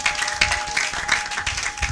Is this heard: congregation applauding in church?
yes